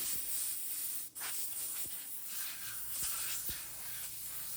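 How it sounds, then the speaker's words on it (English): A hand sands thin wood veneer with 320 grit sandpaper, giving a steady close abrasive hiss with faint rhythmic strokes throughout. "I like to hand sand with 320 grit to get that final smooth finish."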